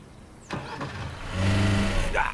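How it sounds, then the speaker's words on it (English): A car engine cranks and catches in the Alfred Hitchcock Vertigo video game, a short starter whir giving way to a steady, close idle rumble that grows louder toward the end. "Start the car."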